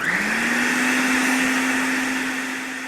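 A blender on high speed purees cauliflower soup with broth, a loud, steady whirring drone that holds for the whole stretch and eases off only slightly at the end.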